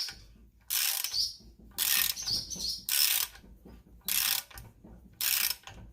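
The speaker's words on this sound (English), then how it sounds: "Go ahead and get your ratchet. Tighten this down inside." A hand ratchet tightening a bolt inside the hub of a 1990–93 Honda Accord, heard as five separate bursts of rapid close clicking with short pauses between strokes.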